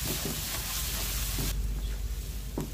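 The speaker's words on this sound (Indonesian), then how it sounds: "Kita aduk rata." Oyster mushrooms with ground pepper being stirred in a pan, a soft low sizzle with faint scraping strokes of the spatula at a steady unhurried pace, close and quiet throughout.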